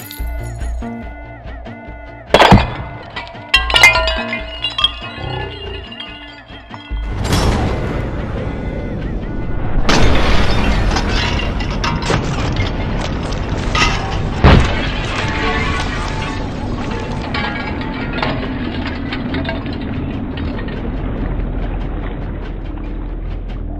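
A wine glass shattered by an axe strike, filmed during a high-speed camera shoot: a sharp crash at about 2.5 s, then further loud impacts and a dense, sustained wash of breaking, ringing debris and noise through the rest.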